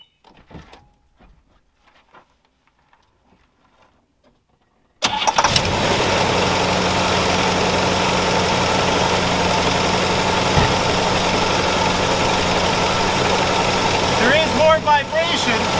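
A 1963 Cadillac Coupe DeVille V8 cranks and fires after a quiet lead-in, then settles into a steady, loud idle with a faint background voice near the end.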